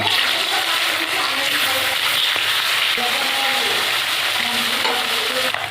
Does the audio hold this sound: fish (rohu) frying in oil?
yes